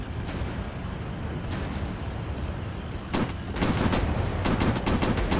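Enemy aircraft guns fire in a WW II dogfight in the VR game War Planes WW II, with bursts of rapid gunfire over a steady engine roar that grow denser and louder toward the end.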